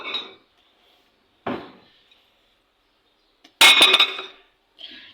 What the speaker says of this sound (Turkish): Şuradan küçük bir tabak alayım.